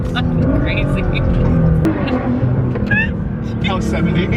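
Nissan GT-R accelerating hard, its engine roaring loud and close in a steady rising drone while people talk excitedly over it.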